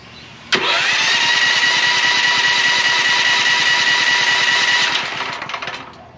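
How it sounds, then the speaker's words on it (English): A Wen 11k generator cranks on its electric starter, and after a sharp click it catches into a loud, steady engine drone. The drone holds for about four seconds, then sputters and fades as the engine falters. "We're going to go ahead and use the electric starter today."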